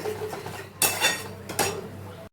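A tomato and spice masala is stirred and fried in a pan, with several loud scraping, clinking strokes of a spoon against metal over a low sizzle.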